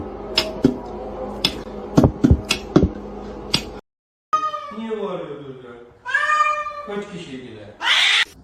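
Kitten meowing repeatedly, loud and close, in short high cries followed by longer wavering meows, with sharp knocks or taps in between and a brief silence.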